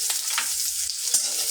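Chopped garlic and onion dropped into very hot oil in a pan with the stove just switched off, giving a brief, bright hiss and crackle with a couple of faint clinks.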